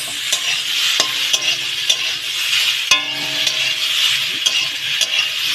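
Steady, loud sizzle of food frying in a pan, with sharp clicks and scrapes of a utensil stirring it; no talking.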